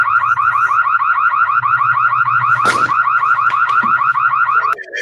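A loud electronic alarm wails in a rapid, steady warbling cycle for nearly five seconds, with a brief sharp burst of noise partway through, then cuts off abruptly near the end.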